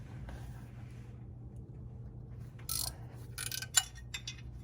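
A hand ratchet works the 10 mm bolts off the axle shield of a Jeep JL/JT, giving bursts of quick metallic clicking and rasping in the second half with a sharp tick near the end, over a steady low hum.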